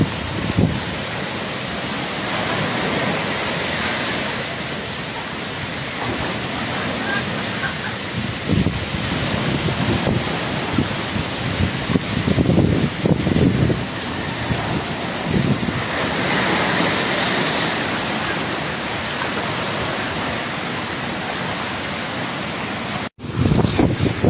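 Storm waves crash and surge during Typhoon Uwan in a coastal Philippine village where damaged boats huddle together, a loud continuous roaring wash of surf and rain-like hiss with periodic swelling crashes, no talking.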